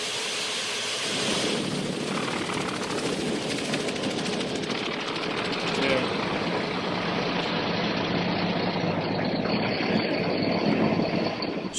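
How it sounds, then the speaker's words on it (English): A loud Mi-35 attack helicopter engine roars steadily as it starts, its rotor throbbing and whining continuously without pause. "the engine mechanics signal pilots to start the engines"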